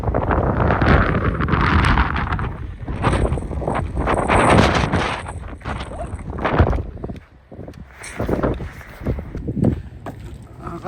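Strong wind batters the microphone outdoors with a continuous roaring rumble and gusty surges that swell and fade, while voices talk faintly underneath.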